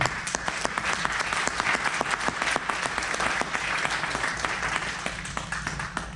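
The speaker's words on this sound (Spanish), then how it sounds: "Denle un aplauso al Señor." A church congregation claps together in praise during a worship service, steady dense applause with a few sharper individual claps, sustained and fairly near with no talk over it.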